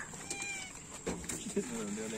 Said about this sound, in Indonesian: Ini kucing ini.